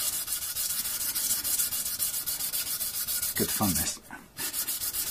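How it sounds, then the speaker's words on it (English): Sandpaper taped to a solid flat block rubbing back and forth over white oak during an electric guitar conversion, a steady close scratchy sanding with rapid even strokes that pauses briefly near the end; a voice speaks once. "Having a piece of sandpaper taped to a solid flat block like this, and this is white oak"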